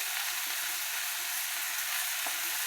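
Spinach sizzling and frying in a pan as it is stirred, a steady close crackle with a few soft scrapes and no talking.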